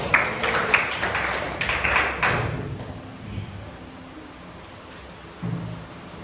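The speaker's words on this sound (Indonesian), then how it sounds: "Tepuk tangan untuk Abid." A small classroom group claps for a student named Abid, a short burst of a few seconds that fades quickly into quiet room noise.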